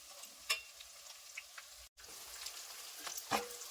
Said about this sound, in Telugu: తగినన్ని పచ్చిమిర్చి జీడిపప్పు వేసుకొని ఒక్క నిమిషం ఫ్రై చేసుకోవాలి